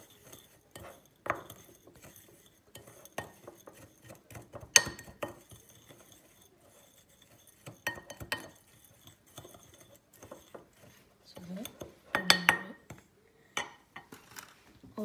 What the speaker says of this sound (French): D'abord on mélange.